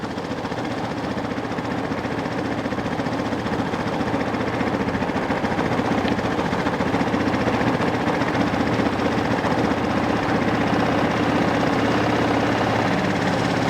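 A Vespa ET4 scooter from around 2000 idles steadily after a carburetor adjustment, a constant nearby engine drone with a slight chugging pulse, loud and continuous with no talk.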